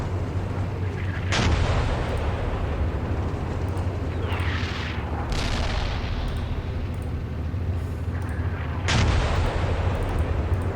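Artillery fire in the tank simulator Steel Beasts Pro, with a heavy rumbling battlefield bed and three big booming blasts spaced a few seconds apart, one followed by a rushing whoosh. No talking.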